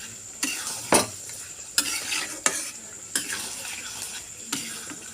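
Potatoes and soybean chunks stir-fried in a pan, with a steady close sizzle broken by sharp scraping strokes of a spatula every second or so.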